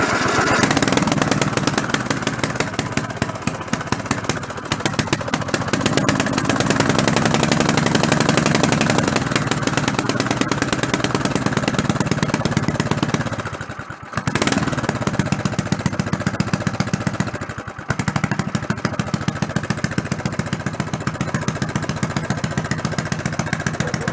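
A gasoline snowblower engine with a primer bulb and choke runs steadily at idle, a loud, close, continuous clattering drone that dips briefly twice before carrying on alone.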